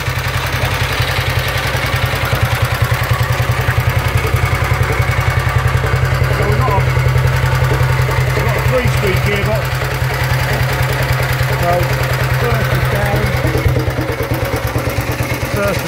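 A 1931 BSA OHV Sloper 500cc single-cylinder motorcycle engine idles loud and close with a steady, rapid thumping beat that never changes pace, while voices talk faintly over it.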